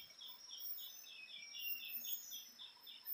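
Faint, quiet outdoor ambience in Bali palm sap farmland, with a steady series of high, repeated chirps from birds or insects, evenly spaced throughout.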